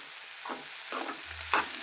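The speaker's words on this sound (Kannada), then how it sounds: "ಕ್ಲೀನಾಗಿ ಮಿಕ್ಸ್ ಆಗೋ ಥರ ಕಲಿಸ್ಬೇಕು," Black-eyed peas with grated coconut are stirred in a tempering pan over low flame, three short scraping strokes of a spoon against the pan above a faint background hiss.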